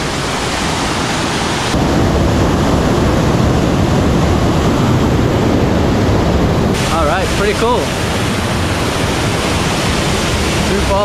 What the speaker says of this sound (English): Two falls. You can tell they're really powerful though, like really strong water